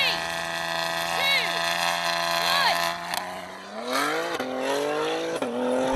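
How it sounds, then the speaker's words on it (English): BMW car on launch control, engine revving with rising and falling pitch sweeps, then a hard launch as the revs climb sharply, loud and close, with excited voices talking over it. "BMW launch control is actually working this time"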